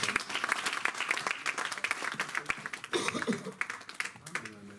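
A congregation applauds during a church sermon, dense and loud, with voices briefly rising and calling out through the clapping near the end.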